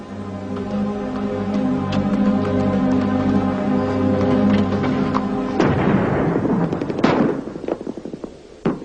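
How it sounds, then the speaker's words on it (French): Artillery shells fired on mountain hills at Mount Judi, heard as a sustained, loud, rumbling roar that breaks into sharp, crackling bursts and echoing booms toward the end, with no talking. "C'est un obus."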